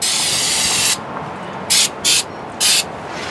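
Gumout cleaner is sprayed onto a grimy carburetor on a 1962 Chevy, first as one long close hissing burst of about a second, then three short sharp spray bursts spaced apart over steady low background noise.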